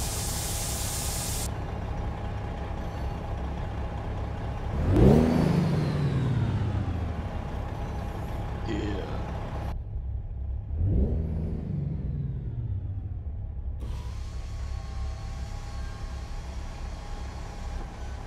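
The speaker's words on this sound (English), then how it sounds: "let's fire up this Cummins" The Cummins diesel in a Marmon 110P truck cranks and starts, then revs twice with rising, falling roars, settling into a steady low idle between sharp air hisses and a brief quiet gap.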